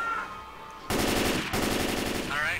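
Rapid automatic gunfire blasting at zombies in the video game Left 4 Dead 2, a loud sustained burst that stops briefly and then resumes, close and dominant.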